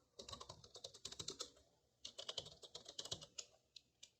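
Fingers type a passphrase on a computer keyboard in two quick bursts of close, crisp key clicks separated by a short pause, ending with a few slower taps.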